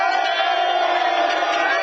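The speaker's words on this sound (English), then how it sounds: "Oh, they're booing me." A large crowd boos in a steady, dense roar that fills the whole stretch, loud and sustained without a break and with no single voice standing out.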